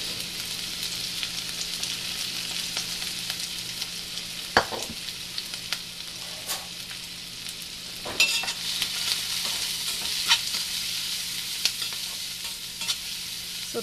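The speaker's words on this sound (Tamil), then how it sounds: "இதுக்கு வந்து ஜஸ்ட் வெங்காயம், சோம்பு, பூண்டு இது போட்டு தாளித்தாலே போதும்." Onion, fennel seeds and garlic frying in oil as the base for a Tamil mutton curry, a steady close sizzle with occasional scraping stirs of a spoon in the pan.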